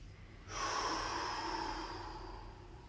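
A single deep breath in through the nose, a close, steady airy hiss that starts abruptly and fades slowly over about two seconds, heard alone.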